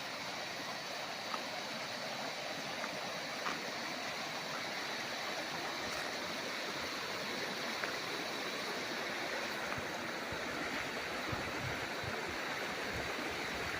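A clean, cold river in a farm lot in Real, Quezon flows in a steady, continuous rush of water, close and even throughout with no voices.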